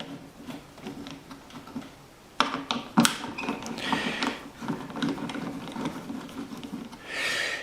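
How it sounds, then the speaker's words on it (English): Phillips screws being backed out of an amplifier's top cover with a screwdriver: light clicking, ticking and scraping metal taps, close and quiet, irregular, with a few sharper clacks in the middle. "next I'm going to remove these 4 Phillips screws here on the top"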